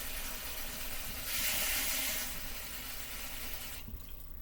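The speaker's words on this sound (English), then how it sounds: "You want to put the water in the eggs, okay?" Water runs from a kitchen tap into a pot of eggs, a soft steady hiss that swells louder midway and then stops near the end, heard alone.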